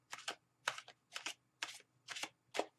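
Tarot cards are shuffled in six quick riffling bursts, evenly spaced, close and crisp against a quiet room.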